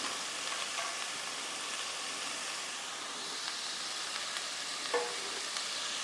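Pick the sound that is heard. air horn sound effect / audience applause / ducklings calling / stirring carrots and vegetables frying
stirring carrots and vegetables frying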